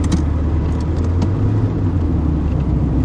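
A Honda Concerto car's engine droning steadily while driving in third gear at about 2,500 RPM, a loud low interior rumble with faint rattles, no speech.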